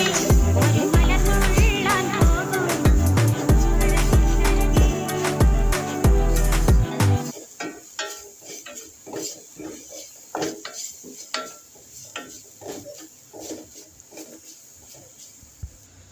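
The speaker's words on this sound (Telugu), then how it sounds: "కొంచెం క్యారెట్ నెయ్యిలోనే వేగనివ్వాలి." Grated carrot frying in ghee in a metal pan for carrot halwa, with a spatula scraping and clinking against the pan. Music plays over the first half, then softer stirring scrapes continue alone.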